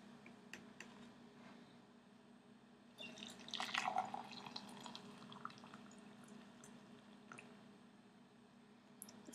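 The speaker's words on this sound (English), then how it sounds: "I'm going to pour on some water." Water poured from a kettle into a large, tall tea mug, a quiet trickling splash rising for a few seconds and fading, with faint drips around it.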